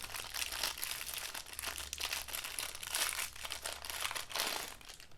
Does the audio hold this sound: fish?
no